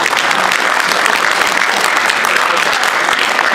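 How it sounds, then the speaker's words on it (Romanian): Theatre audience at a Romanian comedy show bursting into thick, sustained applause, loud and even throughout with no talk over it. "Puteți să aplaudați mai furtunos."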